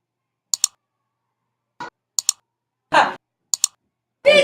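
Mouse clicks while unzipping files on a computer: several sharp double clicks spaced apart, close and fairly quiet, with a couple of soft breathy sighs between them and no speech.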